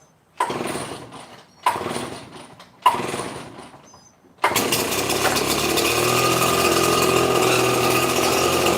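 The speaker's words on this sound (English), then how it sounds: "So I start it while it's in the rack" A string trimmer set in its rack with the choke on gives three short rising pulls that cough without catching, then the two-stroke engine fires and settles into a steady, loud running drone close by.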